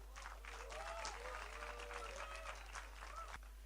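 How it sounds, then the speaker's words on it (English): Audience applause at a film's first-look launch event, a dense patter of clapping with a few voices rising over it and a steady low hum beneath. "he really deserves a loud round of applause"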